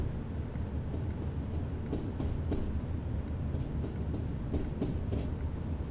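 A Class 37 diesel locomotive in a train simulator heading onto the mainline, a dense low rumble of engine and wheels rolling on steadily with faint rail clicks, no voices.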